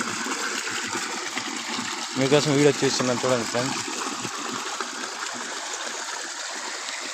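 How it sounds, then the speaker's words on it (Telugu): An outdoor village shower among green fields runs in a steady, continuous stream of water with a broad hiss that carries through the whole clip, while someone talks over it in the middle. "చూడండి ఫ్రెండ్స్, విలేజ్ షవర్ ఫ్రెండ్స్."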